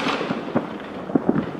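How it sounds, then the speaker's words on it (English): New Year's Eve fireworks burst over a whole town, with repeated distant booms and crackling pops layered into a dense, rumbling wash, irregular sharper bangs standing out. "There's fireworks everywhere."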